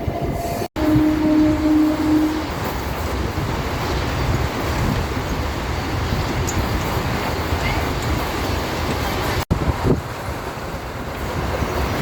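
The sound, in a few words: MEMU passenger train running on rails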